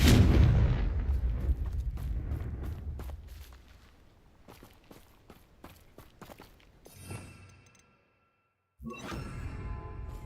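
A Confringo fire spell bursts in the Hogwarts Legacy video game with a loud, close blast that fades slowly, followed by scattered crackles and thuds, a short silence, and then renewed game noise.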